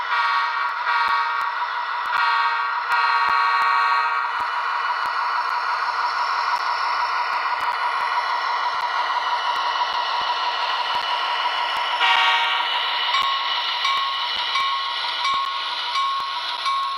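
A locomotive sounds a long horn blast over the steady rumble of the running train, the tone shifting partway through and continuing loud and close throughout.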